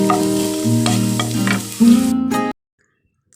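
Finely chopped ginger and garlic fry in oil for a chicken curry while being stirred, giving a close, steady sizzle with scraping strokes for a couple of seconds, then an abrupt stop to silence.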